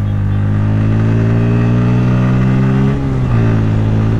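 A Bajaj Pulsar N160 motorcycle engine revs close up, a loud, continuous low throb whose pitch eases slightly and dips briefly before settling again.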